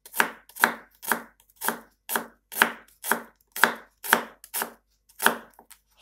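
A knife cutting an onion into thin half-rings on a board: a steady series of about a dozen crisp, close chops at an even pace, each a sharp crunchy tap, with near silence between them.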